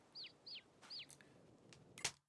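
Farming Simulator 22 chickens and chicks in a farm pen, three short descending chirps in quick succession, then a few sharper clicks and a brief burst near the end, fairly quiet with no talk.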